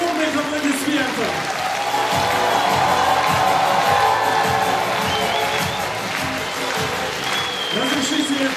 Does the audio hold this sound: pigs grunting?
no